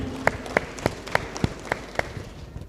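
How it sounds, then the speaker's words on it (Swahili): Audience applause at the opening of a furniture shop, a few steady claps ringing out in an even rhythm, moderately near, with no talk over them. "Haya, tumpigie makofi mazuri pia."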